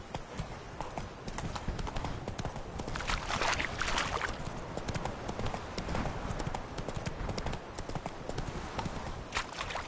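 Hooves of the horse Roach clip-clop steadily on the ground in The Witcher 3, a continuous close rhythmic clatter of footfalls with faint background ambience throughout.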